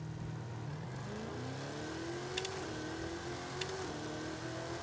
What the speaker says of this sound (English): let's do a burnout